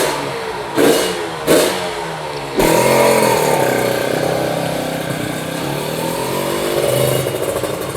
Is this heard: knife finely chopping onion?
no